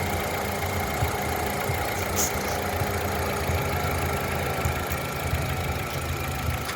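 A 2010 Ford Figo petrol car engine idles at a steady, continuous hum with a faint rattling vibration, heard close up and alone throughout.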